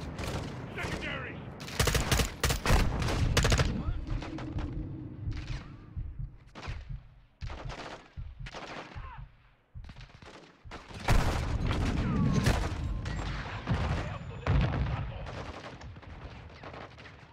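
Gunfire in the video game Call of Duty Modern Warfare 2 during a veteran-difficulty cartel protection mission: dense, sustained battle with overlapping rifle bursts, single cracks and booms, loud and continuous, with voices shouting in the mix.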